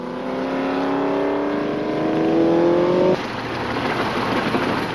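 Vintage racing cars, a mid-1950s 2-litre Ferrari Mondial sports car leading a 1947 special and a BRM, roar past close by with rising engine pitch, then the sound cuts to a broad rushing engine noise; no talk.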